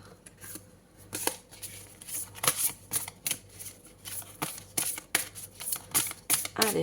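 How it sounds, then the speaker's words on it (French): Tarot cards from a deck are handled and shuffled in a run of crisp, close card flicks and snaps with short pauses between them, quiet overall. "On va prendre une seule carte."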